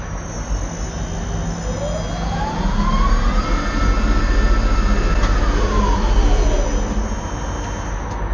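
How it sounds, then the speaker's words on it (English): A tower crane slews on a DC motor with a thyristor pulse drive. A loud, steady mechanical drone is overlaid by a tonal whine that rises in pitch, holds, then falls as the rotation speeds up and slows. "we're driving a crane where the rotation of the crane is on a DC motor with a DC pulsing drive"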